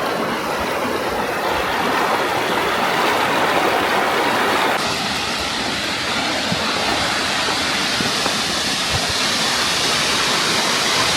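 Glacial meltwater stream rushing steadily, a loud, dense and unbroken roar of flowing water heard close by with no pauses.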